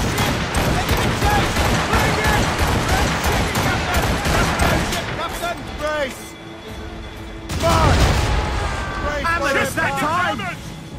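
Ship cannons in Assassin's Creed Rogue fire in a heavy fusillade of rapid booming shots during a naval chase, then thin out to scattered blasts under shouting crew voices.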